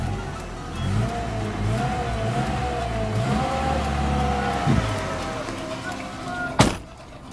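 A 2004 Nissan Terrano with a 2.4 litre engine starts and runs at a steady, fairly close idle with a low rumble, ending in a sharp thump like a door closing.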